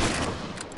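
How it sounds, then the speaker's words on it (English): Rapid automatic gunfire from a video game weapon, a dense, loud and unbroken burst of shots that fills the whole brief moment without a pause. "Why my fucking gun is shooting so goddamn slow, bro?"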